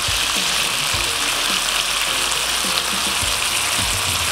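Pork ribs glazed with soy sauce, rice wine and brown sugar sizzle steadily in a pan, a dense, continuous frying crackle that fills the space, with a few faint low clinks and a brief voice fragment beneath.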